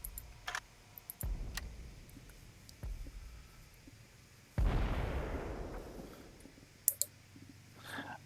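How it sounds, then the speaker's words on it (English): Artillery shelling in the IL-2 Great Battles flight combat game, with several sharp impacts and one heavy, rumbling blast that fades slowly, plus scattered clicks between them. "Boy, yeah, we're getting shelled."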